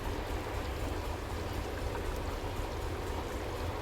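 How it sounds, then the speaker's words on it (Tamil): Dried fish curry with vegetables, karuvattu kuzhambu, boils in a pot with a continuous bubbling, gurgling simmer, close and steady without pause. "எல்லா பக்கமும் நல்லா கொதித்து காய் எல்லாமே நல்லா வெந்துருச்சு"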